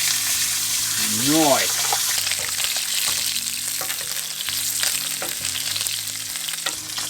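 Steak frying in butter in a pan inside a camper van, a loud continuous sizzle with spitting crackles; a voice briefly speaks over it near the start.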